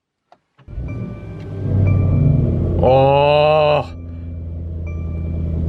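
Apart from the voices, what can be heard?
Mercedes AMG E63S engine cold start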